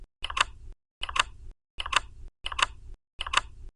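Razer orange mechanical keyboard switches typed in five even keystrokes, each a muted bump-and-bottom-out clack with a low thud, close and clean with silence between presses.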